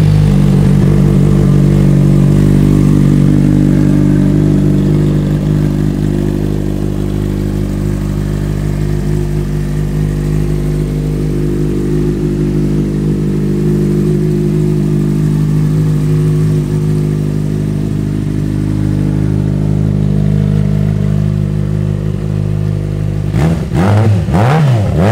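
A 2013 Yamaha FZ6R motorcycle engine runs close and loud, a steady idle holding with mild rises in revs, ending with a sharp change near the close.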